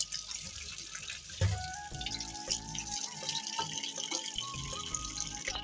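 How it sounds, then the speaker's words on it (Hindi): Running tap water splashes and drips in a sink as drumstick (moringa) pods are rinsed before boiling for a meat dish, with light clinks and handling noises close by; no talking. "हम अब धो रहे हैं स्वांजरा को, धो के इसे बॉयल करने के लिए शायद धो रहे हैं इसे"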